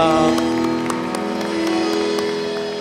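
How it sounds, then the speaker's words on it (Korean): Church congregation at a Korean Sunday worship service claps in steady applause, moderately loud, with sustained organ or keyboard tones held underneath throughout. "하나님께 영광의 박수 올려드리겠습니다."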